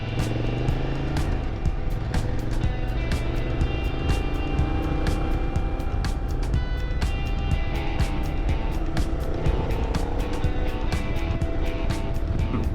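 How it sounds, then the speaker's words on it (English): A motorcycle engine drones loudly and steadily throughout, a continuous rumbling growl with rapid ticking pulses, as if heard from on the bike. "I like the sound of the engine. This bike sounds awesome."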